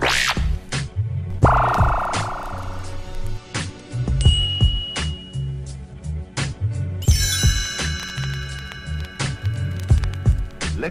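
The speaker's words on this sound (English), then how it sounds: "Turn the pages when you hear this sound." Computer-style chime cue for turning the page on a children's read-along record: a bright electronic tone, then a shimmering ringing burst, set among clinks and a busy mid-level background.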